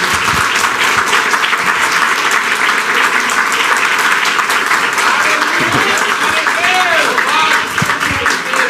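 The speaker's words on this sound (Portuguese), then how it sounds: "As palmas para Jesus, Deus abençoe." A church congregation applauding loudly and continuously, dense hand clapping from many people close by, with voices mixed in underneath.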